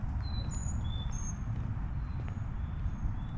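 Small birds on a walking trail give thin, high chirps and brief whistles, scattered and moderately distant, over a steady low outdoor rumble.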